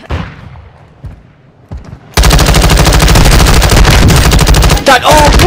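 After a quiet start with a few soft thumps, loud rapid automatic gunfire erupts in a first-person shooter game and rattles on continuously for several seconds, with a brief voice breaking in near the end.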